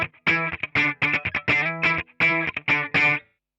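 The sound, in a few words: guitar through Boss AW3 auto wah pedal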